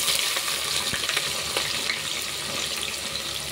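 Onions fry for mushroom biryani in a pan with a steady, close crackling sizzle and a few faint stirring clinks.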